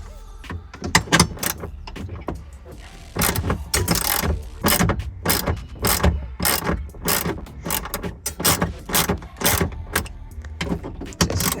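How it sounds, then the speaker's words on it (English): A ratchet wrench turning a bolt while removing the steering wheel from a 1992 Mazda Miata, giving repeated sharp clicking bursts in an uneven rhythm, close and fairly loud, with no talking. "And got my ratchet right here."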